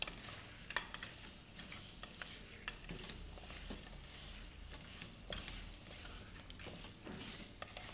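A spoon stirs chopped coriander into ginger chops in a pan, with steady faint scraping and stirring over a low frying sizzle and scattered small clicks.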